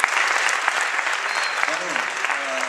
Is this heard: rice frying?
no